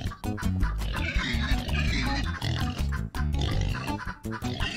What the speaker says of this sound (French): Oh, le cochon.